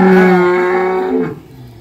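A high-grade dairy cow on a farm gives a single loud, drawn-out moo that starts strong and fades out after about a second and a half, close to the listener.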